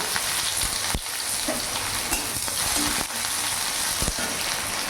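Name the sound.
chopped onion frying in hot oil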